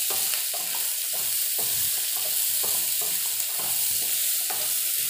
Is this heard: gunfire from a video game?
no